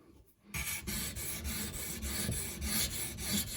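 A Benchmade Nim Cub knife stroked across a 220 grit stone on an Edge Pro sharpener, with steady rhythmic rasping passes, close and loud, following a brief quiet start.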